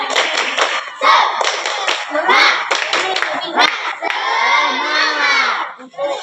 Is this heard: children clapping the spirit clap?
yes